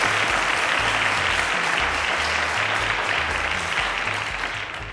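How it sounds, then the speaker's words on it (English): On the Cowbellpedia TV quiz show, the studio audience gives a contestant a round of applause: loud, sustained clapping with low music underneath, tapering slightly at the end. "A round of applause to Chismag."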